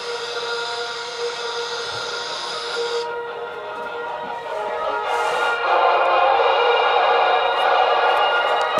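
A Raspberry Pi transmits on the Citizens Band radio, giving a steady loud hiss and tonal buzz that cuts off abruptly, then returns as denser static and grows louder, with no voices.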